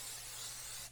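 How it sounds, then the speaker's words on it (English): Cooking spray hisses from a can in one short, steady burst lasting under a second, close and fairly soft, while a meal of pasta fagioli is prepared in a home kitchen. "Where is my cooking spray?"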